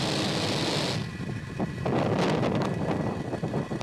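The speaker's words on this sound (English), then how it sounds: "Engines full power. And liftoff of Starlink 2-4." A SpaceX Falcon 9 rocket lifts off carrying Starlink satellites, a hiss giving way to a deep, rumbling, crackling roar that builds and stays loud, heard alone without talking.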